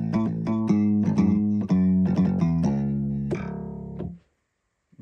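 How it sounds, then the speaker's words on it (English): A deep electric bass voice on a Yamaha Genos 2 keyboard plays a quick run of punchy notes, then a few sustained ones before stopping into silence. "bass, because there's some really good bass sounds on here"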